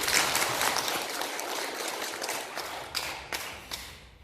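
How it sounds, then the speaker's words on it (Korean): A church congregation applauds during a Sunday worship service, a dense, even clapping that fills the room throughout and thins slightly toward the end. "다시 한번 격려의 박수를 부탁드리겠습니다"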